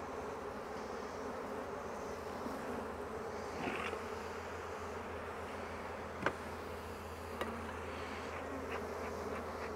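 Honey bees buzz around an open hive while honey is pulled, a dense, continuous droning hum close by with a few sharp knocks mixed in.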